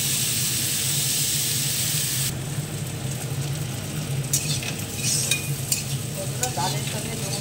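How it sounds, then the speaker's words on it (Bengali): Figs fry in hot oil with black cumin seeds and green chilli, a loud continuous sizzle with a bright hiss that drops partway through, followed by scraping stir sounds of a spatula in the pan. "কালো জিরার ফোড়ন দিয়ে কাঁচা লঙ্কা দিয়ে ডুমুর ভাজাটা ভাজবো"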